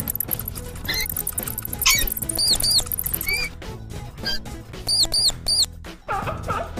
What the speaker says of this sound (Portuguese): Rato.